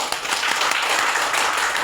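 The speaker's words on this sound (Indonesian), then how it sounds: "Berikan guru tepuk tangan." A classroom of students applauding their teacher in a Christian religious education lesson, a dense, steady burst of many hands clapping together, loud and close throughout with no voices over it.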